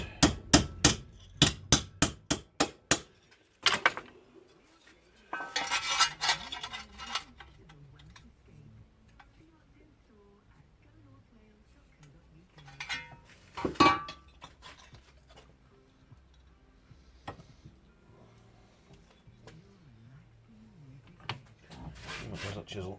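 A chisel is struck on a Cortina car, starting with a rapid run of sharp metallic taps, followed by sporadic clanks and knocks at a distance, with people talking quietly between the strikes.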